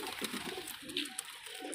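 Desi high-flying pigeons give soft, faint coos, a few brief calls close together in a quiet setting.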